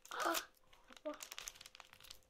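Adhesive tape is pulled and pressed onto wrapping paper around a gift, with a crinkling rip followed by shorter rustles and crackles, close by under a child's speech.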